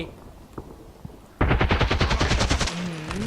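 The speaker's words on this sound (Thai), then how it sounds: "ยิงได้หลายคนครับ50นัดได้เปรียบสุดๆ AK12" Automatic fire from an AK-12 rifle in the Contract Wars online shooter: a loud, rapid burst of closely spaced shots that starts abruptly after a quiet stretch of faint game sounds and runs for over a second before fading into lower ambient noise.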